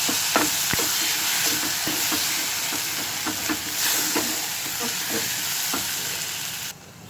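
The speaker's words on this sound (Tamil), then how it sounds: "இந்த தக்காளி நல்லா உடஞ்சி குக் ஆகணும்." Chopped tomato fries in hot oil for a South Indian potato masala, giving a loud continuous sizzle close up, with regular scraping clicks as a spoon stirs the pan throughout.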